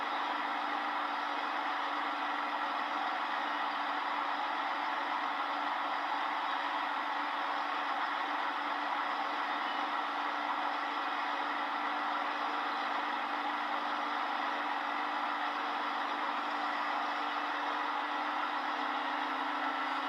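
A tractor engine idles in the Farming Simulator 25 game, a steady, unbroken mechanical drone at constant level with no talk over it.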